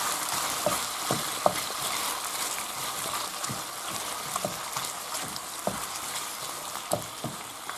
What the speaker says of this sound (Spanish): Ahora lo que hacemos es echar la cebolla y que se rehogue un poquito.